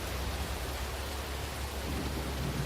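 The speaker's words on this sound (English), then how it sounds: "Big old wall of rain right there." Steady, loud rain with a low thunder rumble in the Roblox storm-chasing game Twisted, a dense continuous hiss with no talking.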